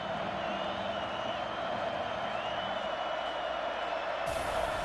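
Stadium crowd cheering at a UCLA at USC college football game, a steady, distant roar holding at an even level with faint talk over it.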